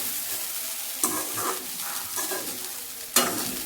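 Poha being stirred in a non-stick-free pan over a low gas flame, with a low steady sizzle and a few sharp scraping strokes of the spoon against the metal.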